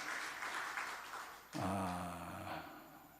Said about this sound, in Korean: 수고하시라고 박수 한번